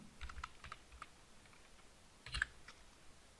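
Faint, sparse keystrokes on a computer keyboard while typing code, a few quiet clicks in short bursts with a slightly louder cluster near the end.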